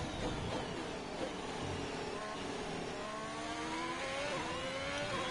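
Ferrari Formula 1 car from the F1 2021 game at Monza, a loud, steady high-pitched engine whine with climbing gear-shift tones, continuous and close throughout.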